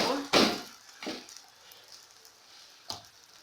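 Flatbread dough sizzles as it fries in oil in a pan, giving a soft steady crackle with a few louder hissing bursts near the start and one near the end.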